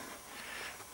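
Trangia alcohol stove burning steadily beneath a Yugoslavian mess kit, giving a continuous soft hiss and roar close by, with no talk over it.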